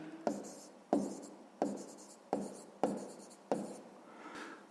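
Handwriting during a sixth-grade maths exercise: six firm, evenly spaced strokes, each a sharp scratch that fades quickly, with no talking.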